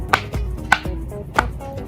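Three crisp, snappy pops from a silicone Pop It fidget toy, evenly spaced and close, with soft handling noise in between and no talking.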